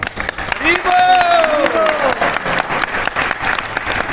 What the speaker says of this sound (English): Clap, clap, clap.